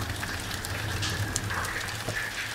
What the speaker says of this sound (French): je pourrais repartir sous la pluie